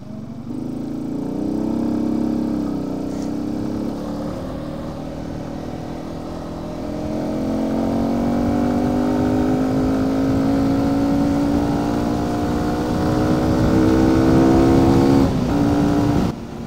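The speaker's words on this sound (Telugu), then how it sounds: "అంటే లైక్ మనం యాక్సిలరేషన్ ఇస్తున్నప్పుడు ఆ వచ్చే సౌండ్ అన్నది," A motorcycle fitted with a K&N air filter accelerates steadily on a cold road ride, its engine note climbing through rising harmonics close to the microphone, with a continuous loud drone and no talking.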